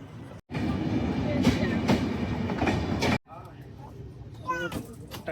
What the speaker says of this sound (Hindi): ट्रेन आ रही है अभी